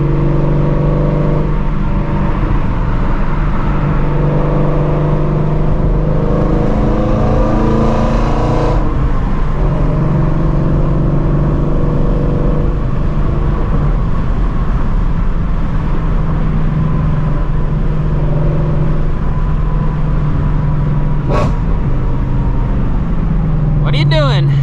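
Shelby GT350 Mustang with its flat-plane V8 droning and revving close by in a steady low rumble that swells and eases, with a sharp burst near the end; people talk over it at times.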